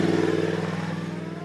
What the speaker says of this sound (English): Mark, this is the 50th anniversary GP edition R1.